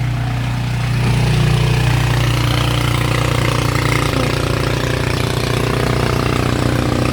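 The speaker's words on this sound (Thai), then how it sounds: "ไม่รู้ใครมันมันเร่งเครื่องอะไรนักหนาตรงนี้นะครับ" A loud engine drones continuously nearby, a steady rumbling roar that swells slightly after the first second and holds.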